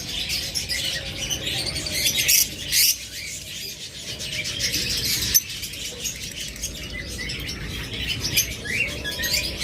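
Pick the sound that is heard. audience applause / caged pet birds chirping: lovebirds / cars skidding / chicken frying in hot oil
caged pet birds chirping: lovebirds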